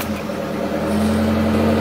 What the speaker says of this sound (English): what I'm gonna do is turn the car on, throw it in a first, and move it a little bit